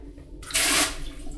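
A hotel bathroom bidet sprays water in a short, strong hiss that swells and fades after a quiet start, lasting about a third of a second before settling back to a low room hum.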